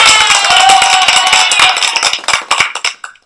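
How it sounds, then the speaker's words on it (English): A small audience claps for a short while. The sound is loud and close at first, then thins into a few scattered claps before it stops. "Let's give her a little applause."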